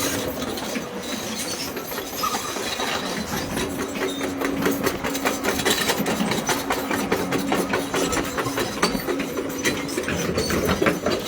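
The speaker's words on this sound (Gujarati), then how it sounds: "જો આ પોતાનું મોઢું બચાવવા હે ને આ ફેરવે હે મશીન" A mining machine engine drones steadily at an illegal mining site in Gondal as the machine is turned around, a continuous mechanical rumble with rhythmic clanking, at moderate distance.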